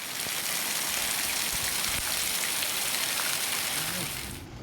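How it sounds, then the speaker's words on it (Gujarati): Heavy monsoon rain pours down over farm fields in Saurashtra, Gujarat, in a dense, continuous hiss, loud and close, without any voices, easing slightly only at the very end. "ધોધમાર વરસાદ પડતા ખેતરો તરબોળ થઈ ગયા"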